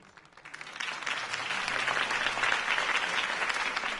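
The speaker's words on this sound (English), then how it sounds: "If only Mr. Wayne, my campaign's largest backer, could have heard that applause" A video game crowd breaks into sustained applause and cheering at a political campaign rally, swelling after a brief lead-in and holding steady as a dense wash of clapping.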